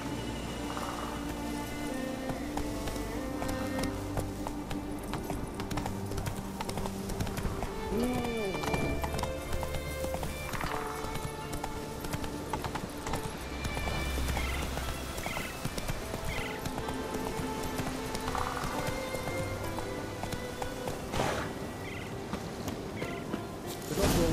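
Geralt's horse Roach gallops in The Witcher 3: Wild Hunt, hooves clopping steadily and close, with a neigh, while characters talk over the ride.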